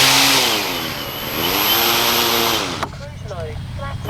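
The motor of an Avios Grand Tundra V2 RC airplane whines and shifts pitch in rising and falling sweeps, loud and near, then drops away abruptly, with a voice talking over it.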